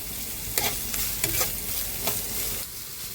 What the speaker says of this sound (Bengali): পেঁয়াজটা এবার আমি হালকা করে ভেজে নিচ্ছি